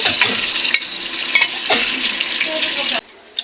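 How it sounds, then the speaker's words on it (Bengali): Chilies and onions sizzling in oil in a pan while being stirred, a bright continuous frying hiss broken by a few sharp spoon clinks against the pan, close and lively before cutting off abruptly. "এখানে মরিচ পেঁয়াজ আর তেল দিয়ে দিচ্ছি এখন ভালোভাবে নেড়ে নিচ্ছি"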